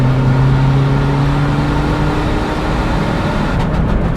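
A car engine on a road dyno pull, loud and close, holding a strong steady drone with a faint falling pitch as revs ease off after the rev limiter, running continuously with no voices.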